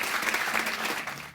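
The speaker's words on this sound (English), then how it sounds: "So let's give everybody a round of applause for this time." An audience at the Saracen Par 3 Learning Links golf course claps in a brief, dense burst of applause, close and fairly loud.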